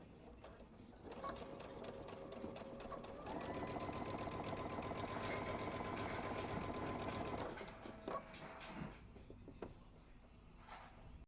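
A sewing machine understitches the facing of a skirt in one steady, fast run of stitching that lasts several seconds. Short bursts of stitching come before and after it, with quiet handling noise in between.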